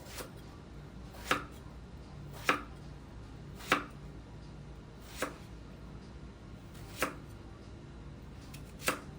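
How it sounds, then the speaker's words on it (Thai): A knife slices long eggplant on a cutting board for a stir-fry with minced pork, about seven crisp, separate chops at a slow, fairly even pace, close and clear with no talk. "ผัดได้เยอะเลยนะคะมาหั่นซอยเนี่ย"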